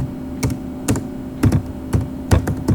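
Computer keyboard keys are struck in quick, uneven clusters while a SQL insert command is typed, crisp clicks close to the microphone with no voice over them.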